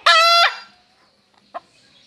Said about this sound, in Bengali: পালের সেরা মোরগ।